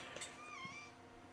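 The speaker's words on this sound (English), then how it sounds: "That was a cat." A house cat gives a single faint, drawn-out meow with a rising then falling pitch, heard quietly indoors against a low background hum.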